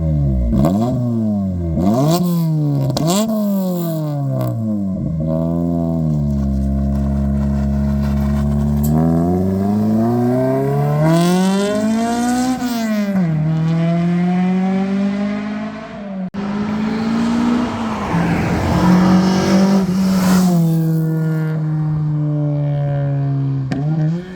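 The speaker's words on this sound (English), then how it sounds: "rev the car so I can get some sound clips" A Toyota AE86 with a Fujitsubo aftermarket exhaust revs up and down repeatedly, close and loud, with a deep, throaty exhaust rasp rising and falling in pitch.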